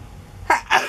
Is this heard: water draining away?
no